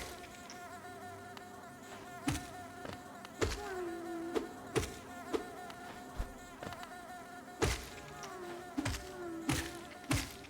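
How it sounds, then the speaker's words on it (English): Bees buzz in a video game, a continuous close droning hum with wavering pitch, punctuated by repeated sharp thumps and clicks throughout. "Oh, they're bees, not flies."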